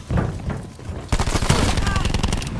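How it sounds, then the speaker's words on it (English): Submachine gun fire in Call of Duty: Black Ops 4, using a stock weapon with few attachments. A rapid, dense burst starts partway through and keeps going loud and steady after a quieter stretch with faint talk at the start. "I'm actually using the submachine gun completely stock"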